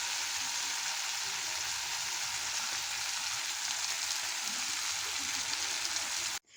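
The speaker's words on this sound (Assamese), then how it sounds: "মজাকে এতিয়া এখিনি ভাজি আছোঁ।" Meat frying in a pan for a home-cooked dinner, a steady bright sizzle and crackle holding evenly for about six seconds before cutting off abruptly, with no talking.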